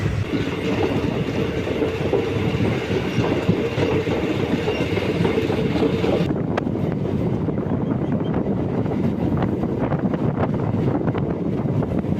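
The Bengaluru-Karaikal Express, an unreserved passenger train, rumbles along at speed with a dense, steady roar of wheels and rattling carriages, loud and close, with wind buffeting throughout.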